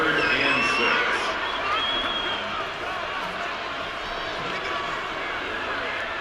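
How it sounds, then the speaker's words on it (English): Stadium crowd in a college football video game, Northwestern at Wisconsin, roars steadily ahead of a big third down, a dense continuous wash of cheering that runs the whole time under a play-by-play commentator's voice. "the crowd getting into it as we come up on a big 3rd down"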